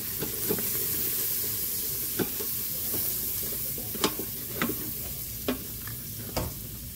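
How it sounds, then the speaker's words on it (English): Garlic sizzling in a pan for keto chicken tikka masala, a steady frying hiss with occasional sharp scrapes and clicks of a utensil stirring through it. "Okay, I'm going to stir this up."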